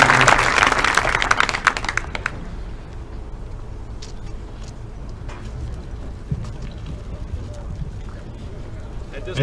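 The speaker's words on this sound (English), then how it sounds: "Can we have one more round of applause for the Special Teams Award winners?" Audience applause at a high school football awards banquet, loud and dense for about two seconds, then fading into a quieter hall with scattered movement and low murmur.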